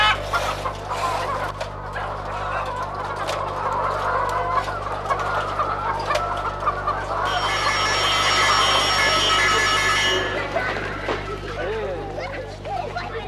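Chickens clucking at a village poultry farm, a busy mix of clucks and calls with a rooster-like crow, steady barn hum underneath and a person speaking over the birds.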